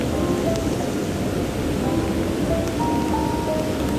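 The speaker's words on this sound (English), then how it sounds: "It's raining." Steady rain falls outdoors at a cooking site, a dense even hiss of drops running unbroken throughout with a low rumble underneath, no voices.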